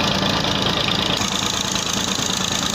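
A tractor engine drives a village cotton seed removing machine in Pakistan, making a steady, loud, continuous mechanical drone up close with no pauses.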